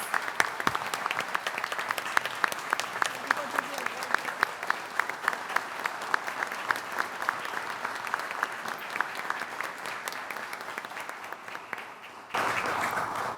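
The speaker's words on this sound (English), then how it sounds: "Let's give him a big round of applause, please." Audience applause at a school board meeting honoring a student musician, sustained dense clapping from a seated crowd that carries on for many seconds, fading slightly before a brief change in room noise at the end.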